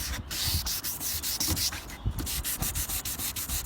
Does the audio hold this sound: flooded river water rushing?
no